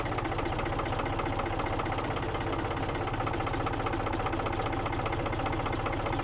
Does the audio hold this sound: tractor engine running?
yes